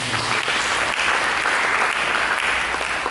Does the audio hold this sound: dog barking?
no